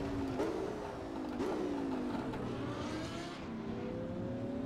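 Lamborghini Gallardo engine in Assetto Corsa at night, revving with pitch sweeps and a few sharp throttle blips over a steady drone, loud and close.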